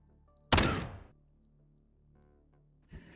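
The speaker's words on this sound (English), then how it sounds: "That was an incendiary grenade" An incendiary grenade in the game Quasimorph goes off with a loud, sudden burst that fades over about half a second, followed by a low background hum and a second, softer hit near the end.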